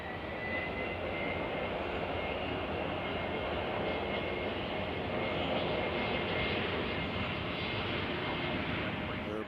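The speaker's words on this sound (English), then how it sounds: "We always like to film our takeoffs" A Boeing 717 jet airliner taking off at Nashville International Airport gives a steady, loud, broadband engine roar that holds at a constant level throughout, with no break or fade.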